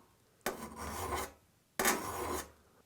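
A hand file rasps on the tooth of a crosscut saw in two long, steady strokes, each starting abruptly and fading out, close and clear with no talking.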